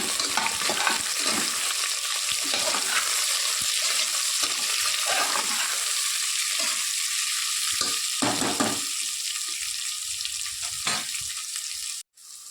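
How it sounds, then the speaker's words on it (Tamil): Sliced onions sauté in a pan for country chicken biryani, a loud, steady close sizzle with occasional stirring, heard alone until a brief break at the end. "வெங்காயம் நல்லா வதங்கிடுச்சு"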